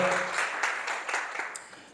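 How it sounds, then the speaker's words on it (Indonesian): A church congregation claps briefly in praise to God, a soft, scattered patter of hands that thins out over two seconds. "Tepuk tangan bagi Tuhan."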